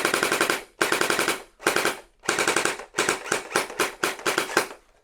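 Gel Zone Kratos gel blaster on full auto, ripping through several close, loud bursts of rapid rattling shots with short pauses between them, the later bursts quicker and choppier.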